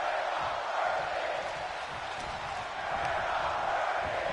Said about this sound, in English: Crowd chanting, "We're not worthy."